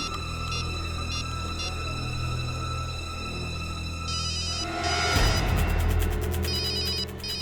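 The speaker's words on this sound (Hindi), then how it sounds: "फोन की आवाज तो यहीं कहीं से आ रही।" A telephone ringtone chimes in repeated electronic bursts over steady background hum, getting louder and busier partway through, with no talking.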